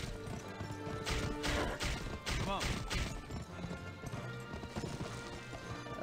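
Horse hooves trotting in the Western video game Gun, rhythmic clip-clop with a brief whinny and some thuds over game music, while someone speaks briefly.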